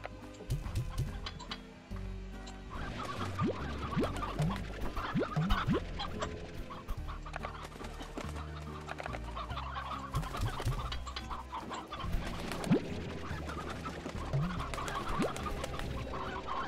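Chickens in the video game Slime Rancher cluck and squawk in a busy farmyard chorus, with repeated short calls and occasional louder squawks over a steady game background.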